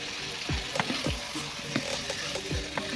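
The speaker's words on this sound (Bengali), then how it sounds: "এবার আমরা ভালো করে কষে নেব মাংসটাকে" Marinated beef chaap sautéed in a pan, a continuous close sizzle punctuated by four or five rhythmic scraping strokes of a spatula turning the meat.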